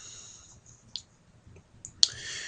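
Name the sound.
computer mouse click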